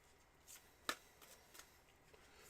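A deck of tarot cards is shuffled during a reading, giving soft quiet riffles with one sharp crisp snap near the start and lighter flicks afterward.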